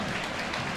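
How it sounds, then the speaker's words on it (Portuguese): Criciúma football fans clap in the stadium during a Catarinense 2024 semifinal against Barra, a soft diffuse wash of applause heard from a distance under broadband crowd noise, lasting under a second. "Torcedor do Criciúma aplaude"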